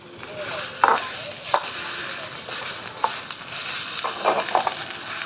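Chilies and peanuts roast in a pan over a small village stove, stirred with repeated scraping strokes and sharp clacks over a dry crackling sizzle, loud and close, no speech.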